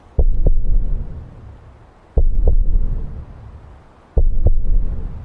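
Deep, booming heartbeat sound effect setting an eerie mood in a tabletop role-playing game, three double thumps spaced about two seconds apart, each followed by a low rumbling throb that fades before the next beat.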